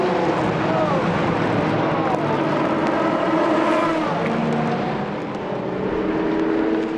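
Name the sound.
endurance race car crossing finish line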